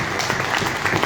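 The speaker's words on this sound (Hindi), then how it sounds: "clapping clapping" A seated audience breaks into applause during a sales presentation in Hindi, dense steady clapping filling the whole short stretch at moderate loudness with no voice over it.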